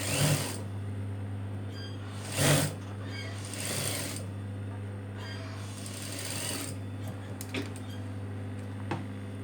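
Sewing machine stitching a nurse uniform, running in uneven bursts with a steady motor hum beneath, sharp rattling surges of needle action starting and stopping, and a few clicks near the end.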